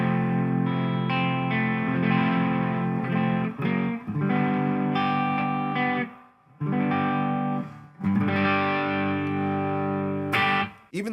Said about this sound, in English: So this one also has the spring reverb, and once again, it is just super lush.